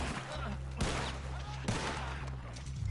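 Gunfire rings out in Red Dead Redemption II: a few sharp, loud shots stand apart from each other over a steady droning game background.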